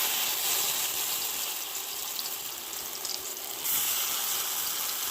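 Poppy seed fritters fry in a little oil in a wok, giving a soft, continuous sizzling hiss that stays steady and fairly quiet, with a brief swell partway through.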